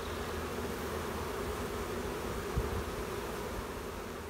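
Honeybees drone steadily around a beekeeper suiting up for a hive inspection, a dense, continuous buzzing close by that holds an even level throughout, with one faint rustle partway through.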